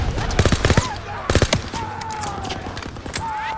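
Bursts of machine gun fire from the Call of Duty WWII Normandy D-Day campaign, several quick rattling volleys close by, with battlefield noise and shouting voices around them.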